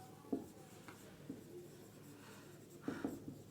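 Chalk or marker writing on a board in a physics class, soft scratchy strokes with a few sharper taps, heard alone and fairly faint.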